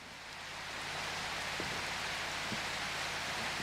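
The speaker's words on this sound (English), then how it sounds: "is it me or does that rain look a little better?" Steady rain in the Prologue: Go Wayback! video game, a dense even hiss of falling water that swells in over the first second and then holds constant, with faint low ticks beneath.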